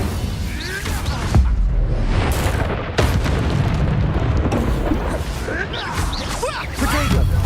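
Fiery spell blasts from the Incendio charm in Hogwarts Legacy burst out in repeated loud booms and whooshes, layered over busy combat effects.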